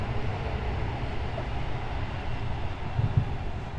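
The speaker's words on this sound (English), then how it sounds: "there's a train behind me" A low, continuous rumble of a train rolling past, steady and fairly close, with a couple of deeper thumps near the end.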